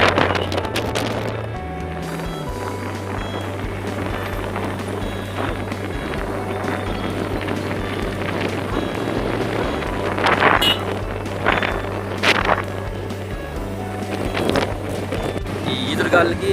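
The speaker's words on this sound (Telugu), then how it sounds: "ఫుల్గా ఈదురుగాలు మాత్రం 60 to 70 స్పీడ్లో ఈదురుగాలు ఆంధ్ర బీచ్ రోడ్లో వేస్తున్నాయి" Strong cyclone gusts sweeping along the beach road at RK Beach in Vizag, a continuous blustery roar of wind buffeting the microphone with low rumbling, occasional sharper bursts and a voice talking over it.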